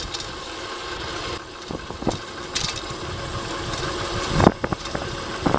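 An electric BMX bike motor hums steadily at roughly 20 mph, a continuous close whine and rumble mixed with wind and road noise and a few scattered knocks.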